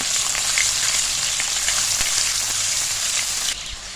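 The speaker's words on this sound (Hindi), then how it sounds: "अब इसी ऑयल में हम डाल देंगे 1 टेबलस्पून अदरक लहसुन का पेस्ट और इसको थोड़ा सा फ्राई कर लेंगे।" Ginger garlic paste frying in hot oil for a fish masala curry, giving a steady, loud, close sizzle with fine crackling that runs throughout and eases slightly near the end, with no voices.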